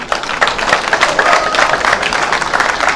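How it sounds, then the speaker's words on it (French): Audience applauding the rector at a New Year's greetings ceremony at the University of Yaoundé I, Cameroon: dense, steady clapping sustained for the full stretch, loud and close. "Vous l'applaudissez par exemple."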